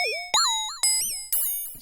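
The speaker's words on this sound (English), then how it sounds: "So now the René is driving the frequency of our oscillator, changing the pitch." Modular synth oscillator with pitch driven by a René sequencer's CV output, producing four bright, chirping tones that each start sharply and sweep in pitch, decaying in a regular rhythm like synthetic birdsong.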